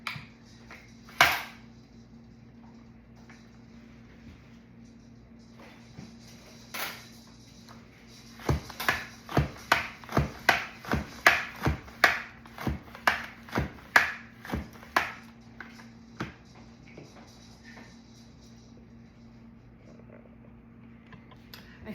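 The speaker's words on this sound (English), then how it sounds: "Let's get to slicing." Jalapeño peppers are sliced on a kitchen slicer in a quick run of sharp, crisp chops, a dozen or so close cuts in steady rhythm, preceded by a couple of isolated knocks and followed by quiet.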